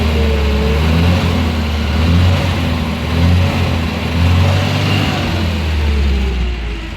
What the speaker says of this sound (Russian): Двигатель не дымит совершенно. Сейчас погазуем.